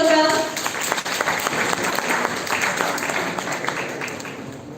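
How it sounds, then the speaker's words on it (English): Audience at a college workshop on crime scene and forensic investigation bursts into sustained applause, a full round of clapping with a brief voice at the start and murmurs beneath. "Can we please have a huge round of applause for them?"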